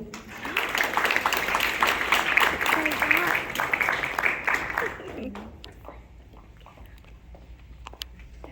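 Applause from a school assembly audience greets a newly named Safety Patrol Officer, a steady crowd clapping with voices mixed in for about five seconds before fading to quieter murmuring.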